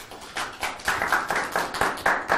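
An audience applauding at a university event in a hall, a dense burst of many hands clapping that swells and stays loud and steady throughout, with no talking over it.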